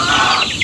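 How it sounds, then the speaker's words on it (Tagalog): Chicks and chickens in a simple, clean poultry pen, a dense, close chorus of high cheeping and clucking throughout a brief moment. "Mga sisiw."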